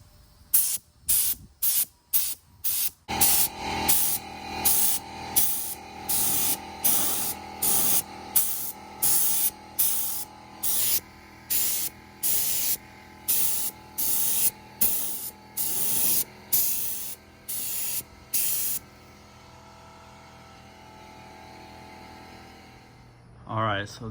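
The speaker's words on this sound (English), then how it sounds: "Definitely recommend it if you're looking for a cheap, affordable spray gun." A CARTMAN HVLP air spray gun coats a door with paint in a long run of loud, steady hissing bursts, each a second or so, separated by brief pauses and ending in quiet handling noise.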